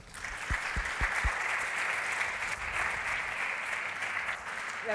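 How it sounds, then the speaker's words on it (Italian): Audience applause greets the speaker at the start of a WUDRome2016 keynote on community-led innovation, a fairly soft but steady wash of clapping sustained throughout, with a few sharper claps near the beginning. "Un applauso per Roberta."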